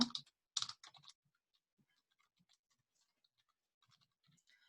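Typing on a computer keyboard, with a quick burst of close, sharp key clicks at the start, then sparse faint taps in near silence.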